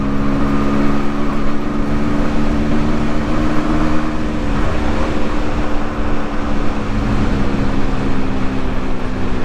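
An 1980s two-stroke motorcycle engine drones steadily and loudly throughout a ride, a continuous buzzing hum with a little wind rush that barely changes pitch.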